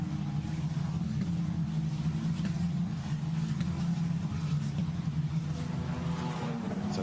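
Formula Renault Eurocup single-seater race cars at the Imola circuit give off a steady, dense engine drone that holds at a constant loudness throughout, with no clear individual pass-bys.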